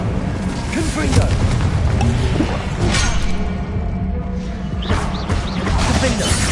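Confringo blast curse going off in Hogwarts Legacy, with bursts of booming, crackling impact noise over dense game action and music, repeated across the stretch and fairly loud.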